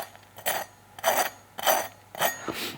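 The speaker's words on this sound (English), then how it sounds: "one way to find out if it's really crunchy enough is that you scrape over the breading with a knife" Knife scraping across the crunchy breading of a German schnitzel, four loud, gritty rasps, each about a quarter second long, coming at an even rhythm close up with no talking.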